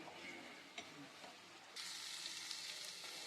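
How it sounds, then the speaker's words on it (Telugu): Half-boiled prawns fry with masala paste in a hot pan, a soft steady sizzle with occasional stirring scrapes that brightens and grows louder partway through. "ఇప్పుడు మనకి ఈ మసాలాతో పాటు వేగితే సరిపోతుంది"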